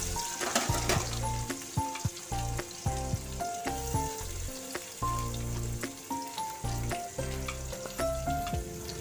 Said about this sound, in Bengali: অল্প করে পেঁয়াজ দিয়ে দিলাম।